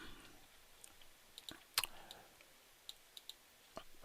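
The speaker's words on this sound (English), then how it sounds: "let's see what happens if I click on enter" A few faint, sharp keyboard clicks, including a more distinct tap of the Enter key, sound in a quiet room with no speech.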